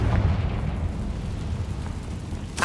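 The Confringo explosion spell bursts in the video game Hogwarts Legacy, a sustained low rumbling blast that continues steadily, ending with a sharp crackling pop.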